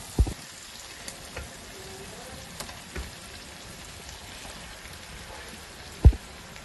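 Fish pieces fry in hot oil with a soft, steady sizzle and crackle throughout, and a few louder thumps and spatters mark pieces dropping into the pan.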